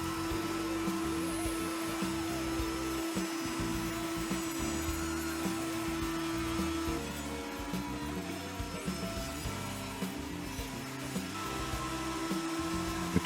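A CNC milling machine runs a facing cutter across a resin board in shallow 0.5 mm passes, giving a steady, loud whirring drone with a constant high whine and continuous grinding noise, with no voices.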